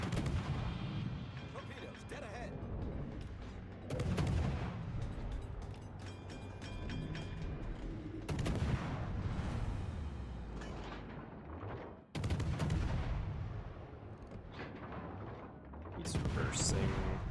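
Gunfire aimed at a Sherman tank in a video game, heavy cannon-like blasts booming every few seconds with rumbling echoes and mechanical clatter between them, loud and close, with some speech in the background.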